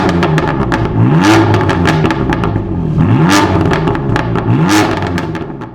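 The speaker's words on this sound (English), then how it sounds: "let me show you a bit how this car sounds when I rev it a bit with the bangs and stuff" A BMW M4 F82 fitted with a cheap exhaust mod revs repeatedly, its engine note sweeping up and falling back in three loud, close blips, each followed by crackling bangs from the exhaust.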